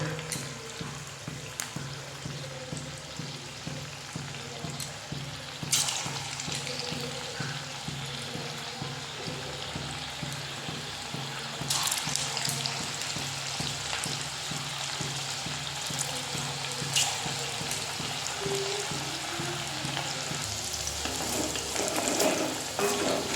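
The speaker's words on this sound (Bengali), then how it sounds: "তো এবার এই যে ছোট্ট ছোট্ট বল করে এগুলোকে জাস্ট তেলের মধ্যে ছেড়ে দেবো।" Small dough balls frying in hot oil in a wok, a steady close sizzle running throughout with brief louder crackles and clatters as pieces drop in, a faint voice now and then underneath.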